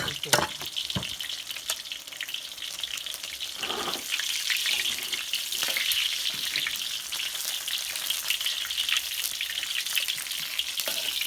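Fish frying in hot oil for a Thai fish curry with pickled mustard greens, a steady dense sizzle running throughout with a few sharper crackles and spatters, close and fairly loud.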